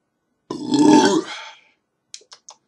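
A single loud, drawn-out belch up close after drinking IPA beer, followed by a few faint clicks.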